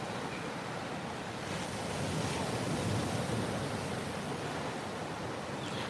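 Ocean surf washes steadily onto an island beach, a dense continuous roar that swells slightly midway, with no voices.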